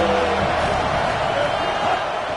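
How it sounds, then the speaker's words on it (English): Stadium crowd roaring at a college football game on a big third down, a dense sustained wall of cheering and whoops heard from a distance, with no clear talk over it. "Big 3rd down as the crowd gets behind this defense."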